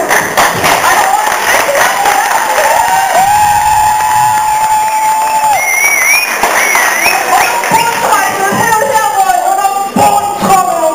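Applause, cheering and crowd noise fill a live stage show at a Hannover convention, loud and continuous throughout, with a voice and other crowd sounds mixed in.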